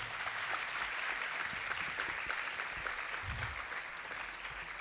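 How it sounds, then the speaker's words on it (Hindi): An audience at a Lent Friday church service applauds with steady, even clapping that holds throughout at a moderate, slightly distant level. "उनके लिए जरा जोरदार तालियों"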